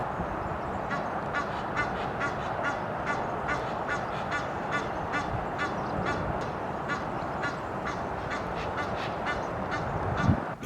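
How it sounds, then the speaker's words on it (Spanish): An Egyptian goose calls repeatedly in a steady series of nasal honking notes, moderately distant over a constant outdoor background. "Ganso del Nilo."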